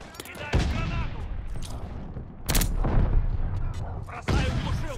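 Grenade blasts and heavy gunfire in a Call of Duty Vanguard multiplayer match, with loud broadband booms at the start, middle and end over a constant din of battle.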